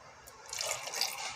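Water poured into a Blendjet 2 blender over apples, a soft splashing trickle that builds midway and keeps running faintly, with no voices.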